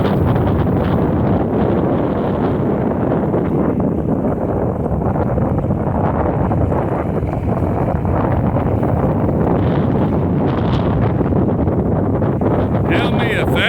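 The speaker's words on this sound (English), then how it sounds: "I can't hold it steady because it's so windy" Strong high wind roars and buffets the microphone continuously, loud and close throughout, on a warm Christmas Eve at sunset, with faint rustling underneath.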